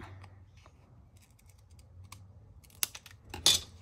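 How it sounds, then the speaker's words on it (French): Scissors snipping through paper card while trimming a folded fan card for scrapbooking: quiet handling at first, then two or three crisp, close cuts near the end, with no talk. "On découpe ici ce qui dépasse."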